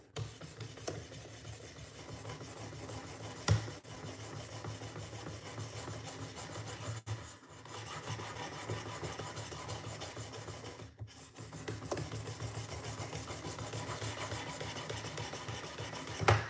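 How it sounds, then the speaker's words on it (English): A Benchmade knife with S30V steel is drawn across a 600 grit diamond stone in a steady, close, raspy scraping that runs without a break and holds even in level. "It'll probably take a good bit to get a burr with this knife, considering the steel is an S30V. So it'll probably take a little bit. We're using just a diamond right now, 600."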